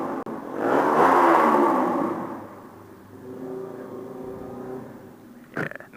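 Honda CBR125 motorcycle engine revved hard toward the red line, a loud rising whine swelling in the first two seconds then easing to a steadier, lower drone near the microphone.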